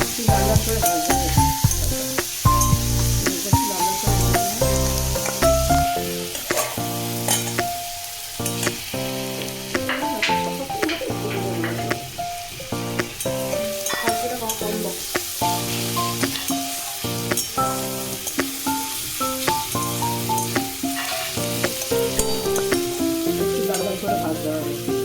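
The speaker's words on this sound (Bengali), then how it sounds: "পেঁয়াজ ভাজা একটু সময় লাগে, একটু লাল লাল করে ভাজতে গেলে একটু সময় লাগবে।" Onions fry in a pan for a leafy greens dish, a continuous close sizzle with frequent stirring scrapes running the whole time, over a steady tonal background.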